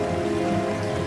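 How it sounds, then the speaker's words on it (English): Steady rain falling, a dense even hiss of drops heard alone and at moderate level, continuous through the short stretch. "The rain forced the weapons from their hands."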